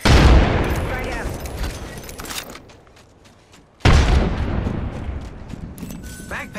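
A frag grenade blast in Apex Legends: a loud, close boom that rolls off over a couple of seconds, a brief near-silence, then a second heavy detonation with a long rumbling tail.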